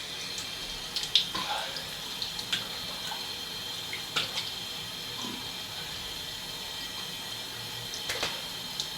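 Tap water runs steadily into a sink as a razor is rinsed under it, with a constant hiss broken by a few clinks and splashes.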